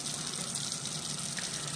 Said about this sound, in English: we're going to get our water running.